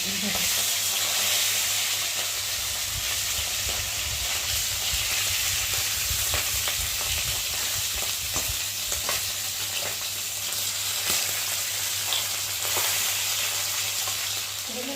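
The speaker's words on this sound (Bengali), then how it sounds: "মাছটা এক পিস করে ভাজা হয়ে গেছে।" Tengra fish fry in hot oil in a pan, a continuous loud sizzling hiss with occasional spatters and crackles throughout, with no voices present.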